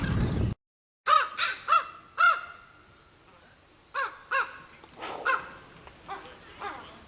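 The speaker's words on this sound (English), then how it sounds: "Raven." A raven at a lake calls repeatedly in harsh, croaking caws, spaced in short bursts and clusters, fairly close and loud, with short quiet gaps between calls and no talking.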